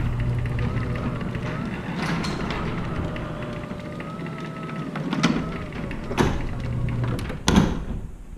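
A Liftmaster 8500W jackshaft opener runs a garage door upward, giving a steady mechanical hum and rumble throughout with a few louder clunks and rattles near the end, over faint background noise.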